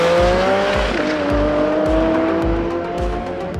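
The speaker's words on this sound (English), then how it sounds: "It's opening the flaps in the exhaust and the sound it makes then is just" Porsche 718 Cayman GT4 RS at Estoril with its exhaust flaps open, a loud, close engine roaring through repeated sharp revving pulses and gear changes, with faint tire squeal, alone with no talk.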